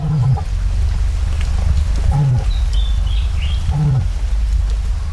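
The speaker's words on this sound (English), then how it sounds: "And cassowaries are capable of making remarkable sounds." A cassowary calls with three deep, low booming pulses spaced about two seconds apart, close and loud over a steady rumbling outdoor background with faint bird chirps.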